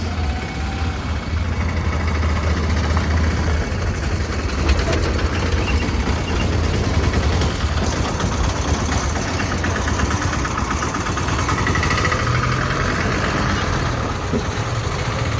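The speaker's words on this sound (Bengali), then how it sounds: "আমাদের বাস আসতেছে এটা আমাদের" Bus engine idling near a river ferry crossing, a loud, continuous low mechanical rumble with a slight knocking texture throughout, heard close up.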